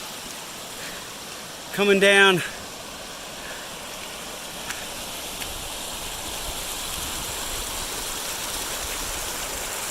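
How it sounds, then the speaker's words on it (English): A snowmelt stream on the Pacific Crest Trail at the North Fork of the San Jacinto River rushes steadily in a continuous close hiss. A brief spoken phrase sits over the water near the start. "These are not regular streams. This is just all snow melt"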